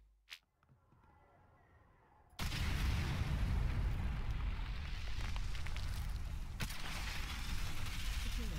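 A grenade blast in an online shooter game erupts as a sudden loud boom, then a long dense roar of rumbling debris and battle noise that persists for several seconds after an almost silent start.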